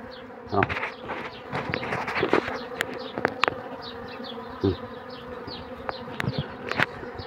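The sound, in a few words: honeybees buzzing at a hive entrance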